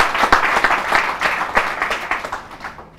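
Audience at a people's parliament forum on safer cities applauds in a short burst of loud, close clapping, individual claps distinct and rhythmic before fading out after about three seconds.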